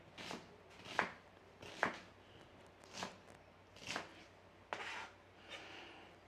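Vegetables and meat finely diced for Cornish pasties: a knife strikes a board in a slow series of about seven separate chops, each a crisp close tap with a brief pause between, quiet overall.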